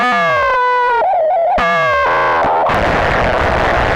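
A guitar signal routed into a synth oscillator's frequency modulation input, giving loud harsh noise: warbling, pitch-bending tones that break off abruptly and then collapse into a dense distorted roar, played alone.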